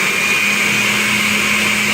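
A blender runs continuously, loud and close, mixing a workout shake with a steady high motor whine and no pauses or speech.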